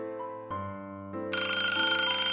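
A phone call placed to a nearby restaurant rings out as a repeating electronic ringtone, steady and moderately loud with no voices, swelling brighter and fuller partway through.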